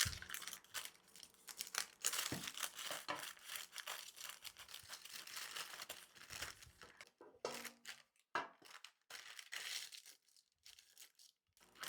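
Parchment paper is cut and crinkled at close range, with faint irregular rustles, snips and crackles that come in uneven bursts.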